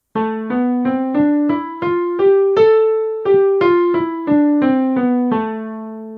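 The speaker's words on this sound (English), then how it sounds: "We also have the minor scale," A lone voice sings a minor scale up and back down, each note distinct and evenly paced, with a longer held note at the top.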